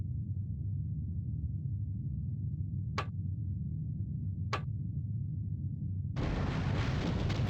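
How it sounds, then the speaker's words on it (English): Underwater explosion in the submarine game 688(I) Hunter/Killer, heard as a deep steady rumble marked by two sharp clicks, then a sudden broad roaring surge that stays loud to the end, no talk. "Con, sonar, loud explosion, bearing 236."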